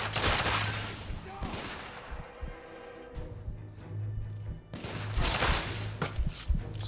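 Bursts of rapid gunfire in The Order 1886 video game on hard difficulty, loud clustered volleys at the start and again near the end, separated by a quieter stretch of scattered shots and game ambience.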